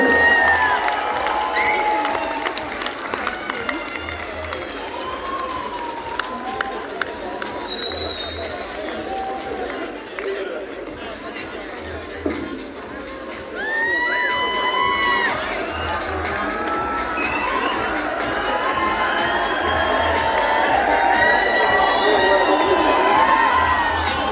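A crowd in a conference hall at an anniversary event cheers and claps with shouts and whistles, a continuous loud babble of voices with music underneath.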